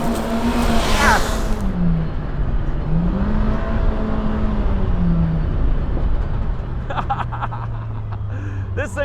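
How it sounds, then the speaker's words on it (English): A Polaris RZR Pro R side-by-side howls at full throttle, its engine pitch rising and falling through the revs, loud and close over rough rumble, then easing to a steadier drone near the end. "This thing is obviously very loud, so I'm not going to talk during full throttle portions."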